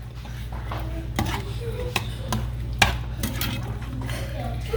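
A spoon works through pumpkin bread batter with vanilla in a bowl, giving a few close scraping knocks against the bowl over a low steady background hum, with no talk.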